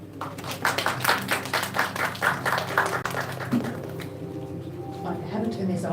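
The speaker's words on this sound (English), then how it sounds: "please give a loud applause for Dr." Clapping for a guest speaker at an arts management seminar, a steady patter of hands from a modest audience over a low hum, thinning out toward the end.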